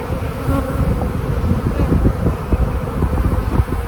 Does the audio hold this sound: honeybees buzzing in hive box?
yes